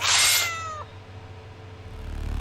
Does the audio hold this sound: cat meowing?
yes